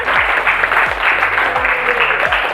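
Classmates clap for a fellow student's class presentation in a classroom, a steady dense patter of hands lasting a few seconds, with a faint voice underneath.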